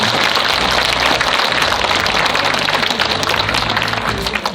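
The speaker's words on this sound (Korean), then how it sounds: "박강수 마포구청장님 참석하셨습니다. 큰 박수로 맞이해 주시기 바라겠습니다." Audience applause at a community event in Mapo, Seoul, welcoming the district mayor: dense, continuous clapping from a large crowd at steady loudness for several seconds.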